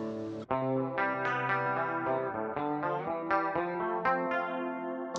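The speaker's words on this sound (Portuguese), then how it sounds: "posso misturar a onda do chorus que eu quero." Synthesizer notes in the Audulus modular app run through a chorus effect, a bright buzzy melody of sustained tones changing roughly every half second, with a shimmering, slightly distorted texture and no voices.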